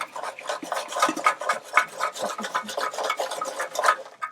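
Repeated scraping, rattling shakes as ash is knocked down through charcoal in a Slow 'N Sear insert inside a kettle grill, a steady run of close metallic rasps with no talking.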